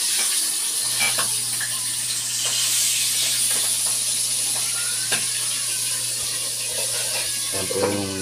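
Milkfish head frying in a pan at home gives a steady, loud hiss and sizzle throughout, with faint clinks and scrapes now and then.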